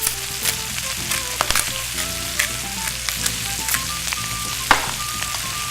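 Greens fry and wilt in rendered pork fat alongside andouille and pork belly, a loud, crackling sizzle dotted with frequent spoon clicks and stirring scrapes, up close, with a faint tonal hum underneath.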